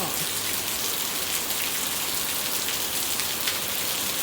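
Rain falls steadily in Chanthaburi, Thailand, a dense, even patter of drops on surfaces that keeps up without a break, moderately loud and with no voices.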